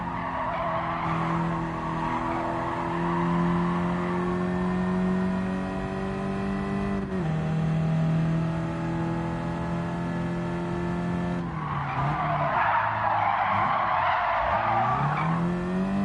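Car tires skidding and squealing under handbrake in the Gran Turismo 7 video game at Tsukuba, a sustained loud screech over a steady engine drone, easing briefly then returning with a fresh slide and revving.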